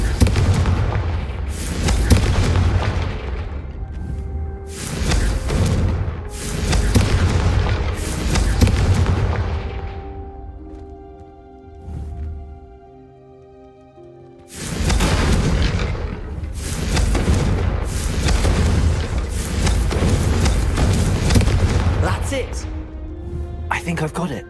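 Confringo fire spell blasts in the Hogwarts Legacy video game: repeated loud booming explosions in bursts, with a quieter lull midway, mixed with voices talking over the action.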